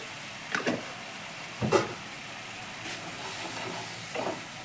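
Spice paste sizzling in oil for a rohu fish curry, a soft steady frying hiss with a few brief louder stirs or spatters, faint and close.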